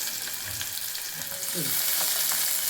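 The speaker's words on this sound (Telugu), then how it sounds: "సో ఇవన్నీ ఇప్పుడు మనం నూనెలో వేసుకుందాం. సో ఇప్పుడు ఉల్లిగడ్డ వేద్దాము, పచ్చిమిర్చి." Chopped onions and green chillies fry in hot oil with curry leaves, a steady close sizzle that swells a little louder partway through, with faint stirring underneath.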